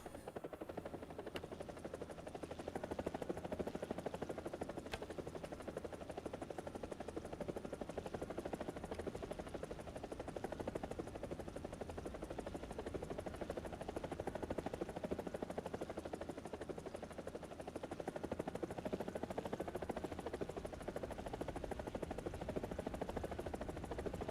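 Helicopter flying in War Thunder, a continuous rotor and engine drone that stays steady and moderately loud for the whole stretch, with no talking.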